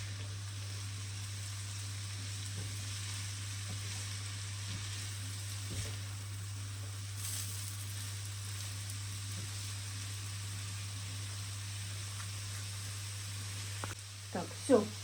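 Carrots warming in oil in a pan for Korean-style marinated eggplant give a soft, steady sizzle with a constant low hum beneath and a few brief clinks near the end.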